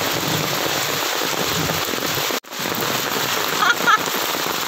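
Heavy rain pouring outdoors in the mountains, a loud dense hiss that fills the whole clip, broken by one brief dropout midway, with faint voices under it near the end.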